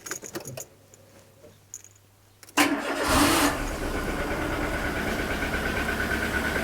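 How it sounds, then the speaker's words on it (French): A Renault Twingo with the D7F petrol engine cranks and fires after a quiet moment, then settles into a steady, close idle with a faint jingle of keys at the start. "Je vais démarrer le moteur."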